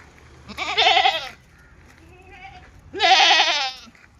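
Two loud, close bleats from Malabari goats, each about a second long, with a quieter call between them; no talk.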